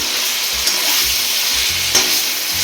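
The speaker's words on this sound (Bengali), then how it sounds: "এই যে দেখুন মাংসগুলো ভাজতে আমি দিয়ে দিয়েছি" Meat fries in oil in a pan for dum biryani with a loud, steady sizzle, while regular scraping strokes of stirring come through up close.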